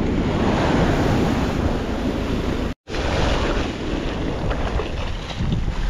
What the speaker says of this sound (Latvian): Baigie viļņi